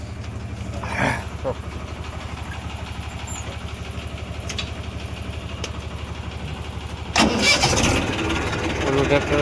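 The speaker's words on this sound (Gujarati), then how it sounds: "ઓલું ટ્રેક્ટર બારું કાઢવું છે." A farm tractor engine turns over and catches near the end, then settles into a loud, rough idle, after a stretch of steady engine rumble with people talking nearby.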